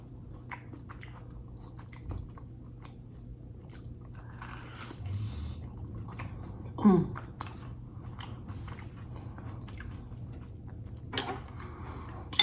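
Someone is eating a crunchy grilled cheese sandwich with tomato soup. Faint close-up bites and chewing are heard in a quiet room, with one louder crunch midway.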